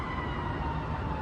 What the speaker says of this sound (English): there's a siren coming